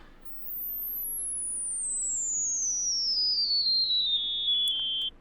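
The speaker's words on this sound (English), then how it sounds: "you can really start to hear the harmonics when you boost the resonance" Synthesizer tone with a boosted filter resonance, a bright whistling harmonic sweeping steadily downward from very high to upper-mid pitch over a faint low bed, sustained and loud, no talking.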